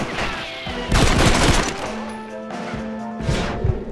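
Gunfire in the video game Red Dead Redemption, several loud sharp shots in quick bursts with booming tails, ringing out close over a faint background tone.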